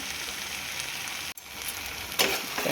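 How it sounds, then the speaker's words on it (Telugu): Eggplant and tomato curry sizzles and fries steadily in a pan, with a spoon scraping and stirring through it and a brief clatter near the end. "ఒక్కసారి కలిపేసుకుందాం"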